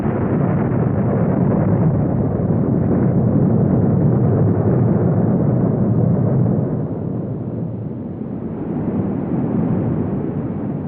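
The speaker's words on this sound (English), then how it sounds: "The island of Krakatoa disappeared with a bang that was heard as far away as Sri Lanka and Australia" The Krakatoa volcanic eruption is heard as a massive explosion, a loud, muffled, deep rumbling roar that holds for several seconds before easing slightly and swelling again.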